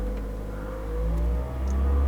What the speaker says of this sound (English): I'll go ahead and hit the gas.